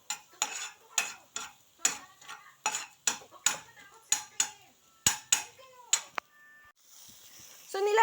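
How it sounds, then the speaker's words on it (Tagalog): Garlic being sautéed in a pan until brown, heard as a steady series of loud, rhythmic spatula scrapes and stirs against the pan roughly every half second, ending with a softer sizzle. "ginigisa ko na yung garlic. Hanggang maging brown siya."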